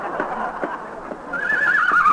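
A horse neighs and whinnies in an old radio drama sound effect, with a few hoof clops and a rising shrill whinny toward the end, close and fairly loud.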